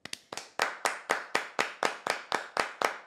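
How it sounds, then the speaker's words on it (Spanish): A single pair of hands claps in a steady, even rhythm, about a dozen sharp, close claps alone in an otherwise quiet podcast setting. "Este aplauso es para ti"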